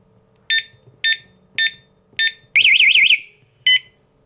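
An FPV power kayak lock alarm gives five sharp, evenly spaced electronic beeps, then a loud warbling siren burst and one final beep, close and clear with a faint hum beneath.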